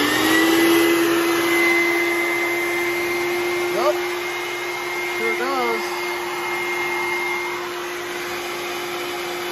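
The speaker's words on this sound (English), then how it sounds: "Just going to plug in the vacuum, see if it works." A shop vacuum runs steadily on power from a discount solar inverter system on a farm, a loud continuous whine throughout, with brief talk from a person partway through.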